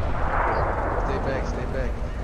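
A tank cannon fires in World of Tanks, a Tiger on console, heard as a heavy, sustained low boom that fills the clip, with a voice talking over it.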